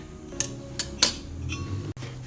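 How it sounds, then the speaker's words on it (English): Kitchen scissors snip the stem off a mushroom, giving three or four sharp metallic clicks in quick succession, close and crisp with a faint background hum. "I am going to cut it off using kitchen scissors."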